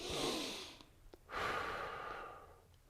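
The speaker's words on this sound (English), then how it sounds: "give it a good exhale" Breathing during a yoga flow: a long, strong exhale up close, followed by a brief pause and then a second sustained breath that slowly fades away.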